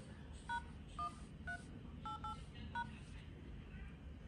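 Touch-tone keypad beeps on a mobile phone as a password is entered, about eight short, clean tones in an uneven rhythm, quiet and close, over faint room noise.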